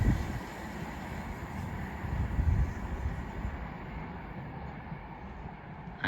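A train rumbles past steadily through Knockholt station without stopping, with low rolling noise and some wind buffeting, fairly close, no voices.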